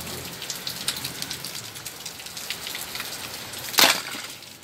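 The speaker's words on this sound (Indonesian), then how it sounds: "kebetulan di luar sedang hujan" Rain falls outside in a soft, steady patter with a brief louder splash or crackle near the end, heard alone without speech.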